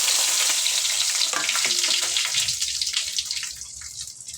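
Dried red chillies, mustard seeds and cumin sizzling in hot oil, a loud bright crackle up front that eases and thins toward the end, with a few stirring clinks and no talking.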